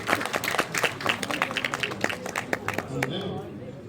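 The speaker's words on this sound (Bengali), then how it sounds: "একটু জোরে হাততালি" An audience at a Bengali film award show claps in a scattered, uneven patter of hand claps, moderately loud and steady throughout.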